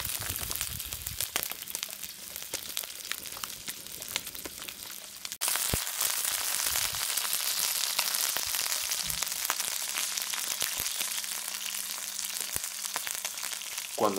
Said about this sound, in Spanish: Comenzaremos dorando el pollo en aceite de oliva